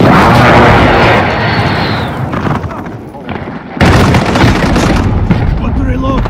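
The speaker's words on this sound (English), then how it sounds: "Friendly precision airstrike on the way." Precision airstrike explosions in Modern Warfare 2019 roll out as loud, sustained booming blasts with dense rumbling debris. A second heavy blast lands partway through, and game voices and speech sound over the noise.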